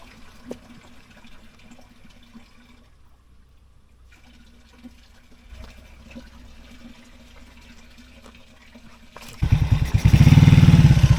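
Water gushes from an open outdoor fountain tap at Arslanköy-Yedigöz, Mersin, rising to a loud, steady rush in the last couple of seconds after a quieter stretch of low background noise.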